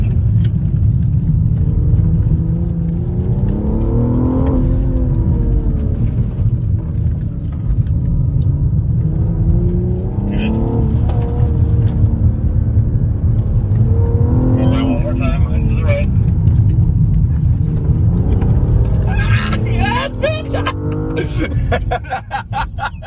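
A BMW engine drones loudly and continuously on a race track during a track day, rising in pitch repeatedly through gear changes, while an instructor speaks over the cabin noise.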